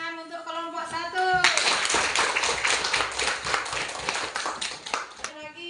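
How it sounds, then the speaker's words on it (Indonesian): A voice speaks briefly, then a crowd breaks into loud, lively clapping that carries on for several seconds before fading as talk resumes. "Tepuk tangan untuk kelompok 1"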